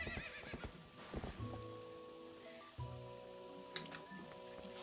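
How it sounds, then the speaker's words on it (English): In Zelda: Twilight Princess HD, a grass-whistle horse call is answered by a horse neighing, with several sharp whinnies and hoof clip-clops over a sustained game melody, clear and fairly close. "let's go and use the grass as our horse call."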